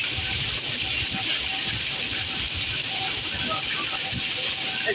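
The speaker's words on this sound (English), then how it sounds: "It's hailing." Hail and heavy rain pour down during a severe thunderstorm in a steady, loud, dense hiss that continues without a break, with faint voices now and then.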